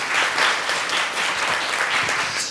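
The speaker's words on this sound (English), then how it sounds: "Another round of applause, please, for everyone." An audience at a community senior-services panel event claps for the panelists, a warm, fairly loud burst of applause from a seated crowd that swells slightly and holds steady throughout.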